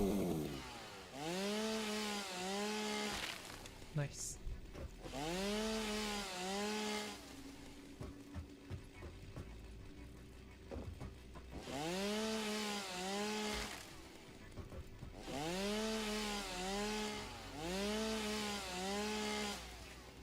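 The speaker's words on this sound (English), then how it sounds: "And I also made a chainsaw." A chainsaw in the game Satisfactory revs in four loud, sustained bursts separated by short pauses, each burst rising and falling in pitch, and a single brief word is spoken during one of the gaps.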